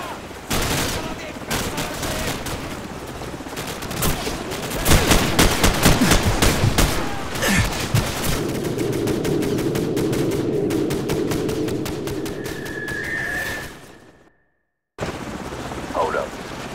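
Dense gunfire in Call of Duty 4: Modern Warfare as a recon squad is compromised in a field: loud, close rapid volleys and bursts, a helicopter drone beneath, shouted voices mixed in, then a brief silence and more shots.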